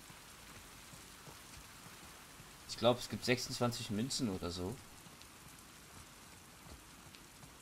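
Steady rain falls in the video game The Last of Us Part II, a soft continuous patter beneath someone speaking German briefly in the middle.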